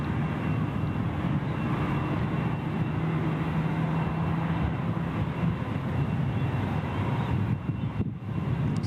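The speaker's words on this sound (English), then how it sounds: "Jetstar A321 Neo is pushing back. I can hear it sounding good." Jetstar Airbus A321neo jet pushing back at Gold Coast Airport, a steady continuous engine roar and rumble heard from a distance, holding level throughout with light wind buffeting on the microphone.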